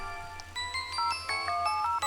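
Bright, bell-like ringing tones chime in a quick sequence of overlapping notes over a low steady hum, fairly loud and close, with no talking.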